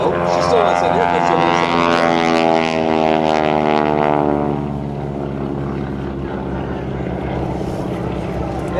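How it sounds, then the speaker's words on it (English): A wingwalking propeller plane drones loudly overhead at an airshow, its engine pitch sliding steadily downward through a hammerhead maneuver, then settling into a lower, steady hum. "Marcus climbs up, stands on the left rotor, hammerheads that airplane around to the inside with Carol on the inside of that airplane."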